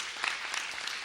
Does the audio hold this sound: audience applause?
yes